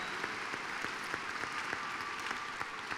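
Audience applause at a musical show fills the space with continuous, even clapping from a large crowd, a few individual claps standing out slightly above the broad wash.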